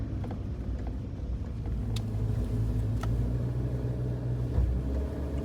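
A car drives over desert sand dunes at Sealine, Qatar, its engine giving a steady, close, low rumble that swells slightly midway, with no voices.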